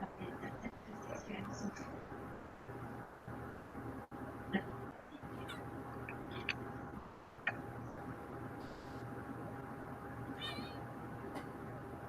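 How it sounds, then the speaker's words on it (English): A pet cat meows several times in a quiet indoor room, with soft, brief calls spread across the stretch and faint background murmur in between. "I hear a kitty."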